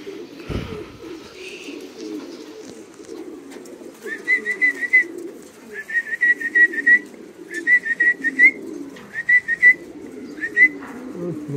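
Pigeons cooing up close, a series of repeated rhythmic coos that grow more frequent in the second half, over a soft background murmur of activity and no clear speech.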